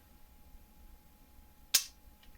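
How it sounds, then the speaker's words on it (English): A single sharp click from a handgun's trigger being dry fired stands alone against quiet room tone, with a faint second tick just after. "So let's go ahead and take some shots here."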